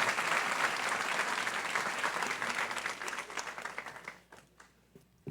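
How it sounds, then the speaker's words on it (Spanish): A church congregation claps loudly and steadily during a Spanish-language service, then the applause thins and fades into near quiet at the end. "Dale un fuerte aplauso al Señor por eso."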